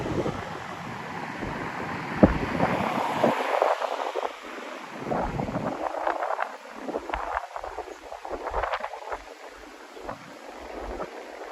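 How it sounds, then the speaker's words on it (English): Strong nighttime wind in Miami, Florida gusting and buffeting the microphone, a steady roar with rushing surges throughout, no voices. "crazy windy tonight."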